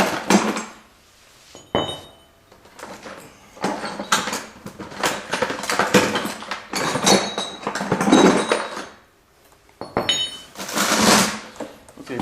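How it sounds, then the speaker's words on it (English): Metal pipe wrenches clank and clink as they are picked up and set down beside a cast iron radiator, a quick irregular series of close, sharp metallic knocks and scrapes with brief pauses between handlings. "Smaller pipe wrench."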